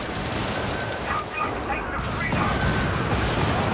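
Incoming gunfire in a video game crackles continuously as rapid shots and bursts, with distant booms and faint dog-like barks mixed into a dense battle din.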